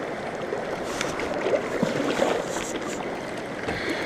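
Red Creek in the Dolly Sods Wilderness of Monongahela National Forest, running high and fast after rain, gives a continuous close rushing roar of water.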